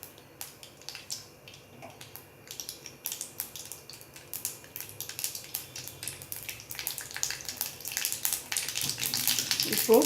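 Mustard seeds splutter in hot oil in a kadai, a dense crackling patter that starts sparse and builds steadily louder over ten seconds, with faint background noise and no clear talk.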